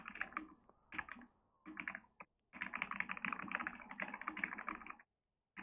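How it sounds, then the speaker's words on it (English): Computer keyboard typing in bursts of quick key clicks with short pauses, fairly close and alone, during a casual gaming chat session. "I like that you can hear my keyboard."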